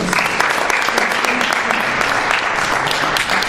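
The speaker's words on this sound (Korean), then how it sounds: "다시 한번 박수 주시면 감사하겠습니다" Sustained applause from a crowd at an international fire investigation conference after a presentation, dense and steady clapping filling the whole stretch without a pause.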